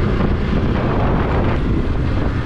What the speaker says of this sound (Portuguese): Ventando bastante.